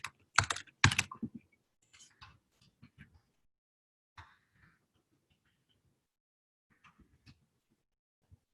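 Typing on a computer keyboard, with a quick cluster of loud, close keystrokes at the start followed by sparse, faint key taps scattered through an otherwise quiet room.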